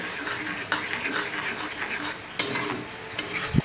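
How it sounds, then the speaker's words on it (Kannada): Spoon stirring a thick, ghee-rich Varamahalakshmi prasada mixture in a pan over medium flame, with steady scraping and clinking under faint background noise and a brief low knock near the end. "ಅದು ಒಂದು ಮೀಡಿಯಮ್ ಫ್ಲೇಮಲ್ಲಿ ಈ ಥರ ಕಲಿಸ್ಬೇಕು."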